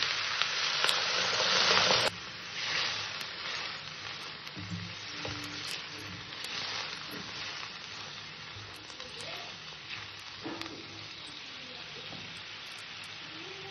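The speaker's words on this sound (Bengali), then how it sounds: "তরকারিটা কষা হয়ে গেছে, এখানে আমি জল দিয়ে দেবো।" Water poured into a pan of fish-head and kudri curry brings a loud hiss of frying that drops after a couple of seconds to a softer, steady sizzle with faint stirring clinks.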